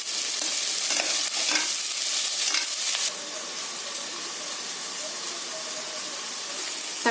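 Shallots, curry leaves and salt sauté in a pan with a bright, constant hiss and stirring scrapes, loud at first and then settling to a softer sizzle partway through.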